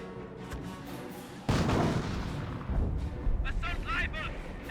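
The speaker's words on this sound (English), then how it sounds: "Artillery does miss these grenadiers." Artillery shells land in a Company of Heroes 1 battle, a heavy burst of booms that starts partway through and keeps rumbling with scattered explosions, while a voice talks over the action.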